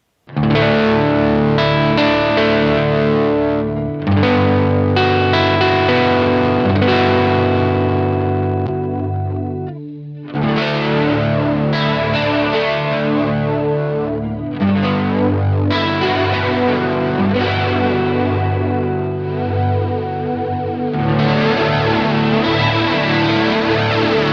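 Sustained electric guitar chords through an Old Blood Noise Endeavors Screen Violence pedal, shimmering modulation swelling into a big, washy reverb, played loud with brief pauses between phrases.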